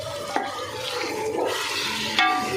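Masala fried and stirred in a pan for a potato chicken pulao, with a close, continuous sizzle and scraping spoon strokes, plus a couple of sharper clacks against the pan.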